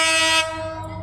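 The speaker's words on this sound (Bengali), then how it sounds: "উল্টা পথে ট্রেনটি ঢুকছে" A Dhaka-bound train entering on the wrong line from Tongi station sounds a loud, sustained horn that holds steady, then drops abruptly to a softer ringing tone as the blast fades.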